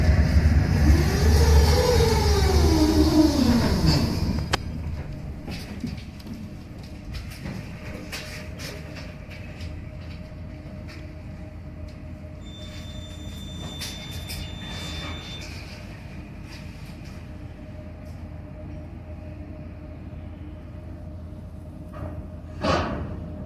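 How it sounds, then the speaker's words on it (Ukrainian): Inside a moving route 23 tram in Kharkiv's Saltivka district: a rising and falling motor whine gives way to a steady low rolling rumble with occasional clanks and a faint tone. "відчуйте собі, їдете трамвайчиком, по 23-му трамвайчику"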